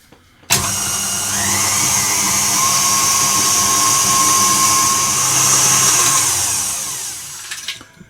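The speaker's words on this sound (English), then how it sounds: "I'm going to add my egg and whisk it again" An electric whisk whirs steadily at high speed as egg is beaten into frangipane batter, starting abruptly, running for several seconds and then switching off, close and loud.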